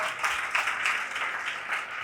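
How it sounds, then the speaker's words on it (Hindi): Audience at a Hindi-language Christian church service applauding for the Lord: steady, dense clapping from many hands throughout, moderately loud and with no voices over it. "क्यों ना प्रभु के लिए ताली बजाए।"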